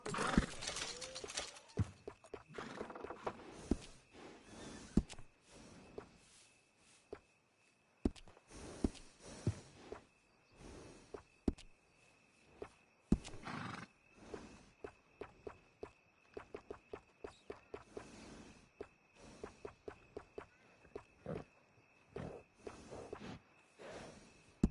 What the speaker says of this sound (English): And a fine new horse.